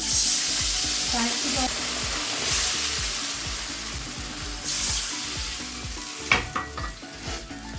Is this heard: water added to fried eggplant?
yes